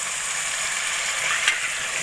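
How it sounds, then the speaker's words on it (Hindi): Tripe (ojri) frying in masala in a pan, a steady close hiss of sizzling with a small pop, no talk. "इसी मसाले के साथ इसको थोड़ी देर भून लूँगी।"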